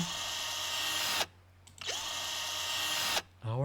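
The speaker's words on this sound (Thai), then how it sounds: "เดี๋ยวใช้สว่าน" Power drill used to drill bone in a bone-plating surgery, two sustained high whirring bursts of about a second each with brief pauses between, loud and close, ending with a short spoken sound.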